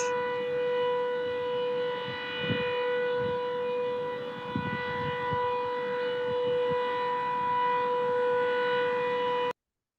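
A Sabbath siren in Israel wails as one long, steady tone that holds for nearly ten seconds, far off and uninterrupted, with faint background noise beneath it before it cuts off.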